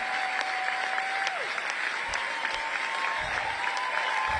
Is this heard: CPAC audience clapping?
yes